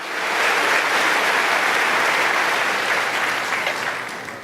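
A church congregation breaks into sustained applause for the Lord, loud dense clapping that swells quickly, holds for several seconds, then tapers off.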